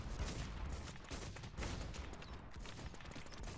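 Dense, continuous gunfire in the FreelanceZ shooter game, a loud unbroken barrage of rapid shots with no break and no talk.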